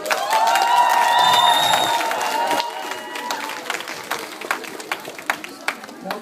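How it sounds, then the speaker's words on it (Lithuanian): A crowd applauds teachers at a school's first day of September event, dense clapping that fades to scattered claps, with a voice speaking briefly at the start. "Plojimai, mokytojai!"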